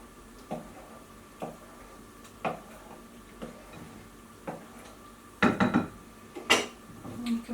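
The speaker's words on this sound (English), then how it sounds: "we'll stir it again" A spoon stirs melted butter in a dish in a Panasonic NN-ST45KW microwave, giving a series of light, evenly spaced clinks and taps, then a denser scraping clatter near the end.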